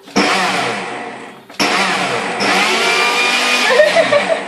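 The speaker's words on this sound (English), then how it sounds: "we're still blending the dates" A blender blending dates runs with a loud motorised whir, steady, briefly cutting out and then restarting, with the pitch shifting slightly as it grinds on.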